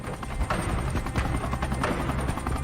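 Two Gazelle helicopters of the French special forces helicopter regiment lifting off from Mopti Sévaré airfield in Mali, a loud continuous rotor thrum and turbine roar filling the whole stretch, close by.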